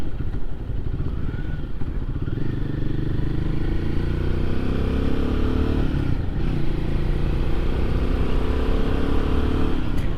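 Royal Enfield Guerrilla 450 motorcycle engine heard while riding, a steady loud drone with rising and shifting pitch as it accelerates, under constant wind rush for about ten seconds.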